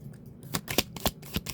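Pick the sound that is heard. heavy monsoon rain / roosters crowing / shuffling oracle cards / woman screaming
shuffling oracle cards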